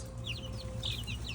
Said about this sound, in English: I'll show you some chickens in a minute.